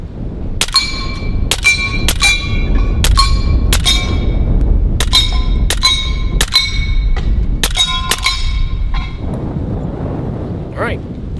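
Rifle slugs from a .30 caliber Western Sidewinder strike steel Texas star targets at a range: a rapid series of about a dozen sharp ringing clangs with bright metallic overtones over a steady low rumble, fairly close.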